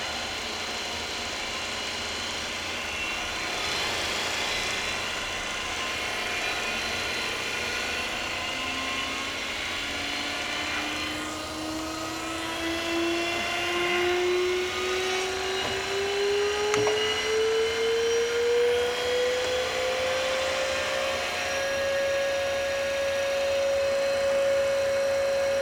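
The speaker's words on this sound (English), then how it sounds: "We can bring down our ID grinding spindle and start that up to do ID grinding work." The ID grinding spindle of a Brown & Sharpe universal cylindrical grinder starting up, a high whine that rises steadily in pitch and then holds, over a constant machine hum, with no talk.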